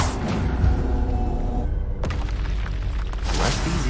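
Bombarda explosion spell in Hogwarts Legacy, heard as a heavy low boom with rumble, then a sharp crack-like burst midway and a bright shattering spray of debris near the end, loud and close.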